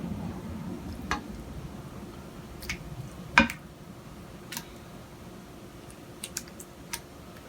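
Lasagna sauce spread across the bottom of a 9x13 pan makes quiet, sparse clicks and soft scrapes of a utensil against the pan, with one sharper tap among them and no talking.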